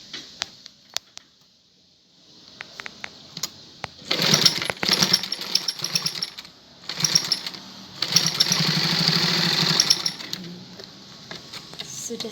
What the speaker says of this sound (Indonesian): Kemudian kita tindas atau kita setik dengan menggunakan mesin tadi tepinya